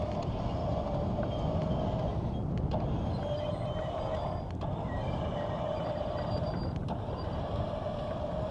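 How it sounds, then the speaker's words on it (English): A stuck truck's front wheels spin continuously in a low, grinding mechanical drone, with intermittent creaks and knocks rising over the steady rumble. "those front ones are spinning"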